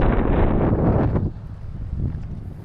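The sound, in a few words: strong wind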